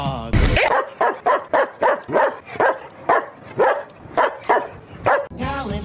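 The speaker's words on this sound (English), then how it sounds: "Dog." A dog barks steadily and loudly, about a dozen evenly spaced barks in a row, with a brief rushing noise at the start and end.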